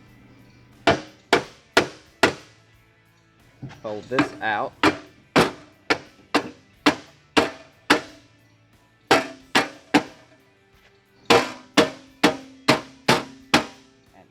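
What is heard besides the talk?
rubber hammer striking metal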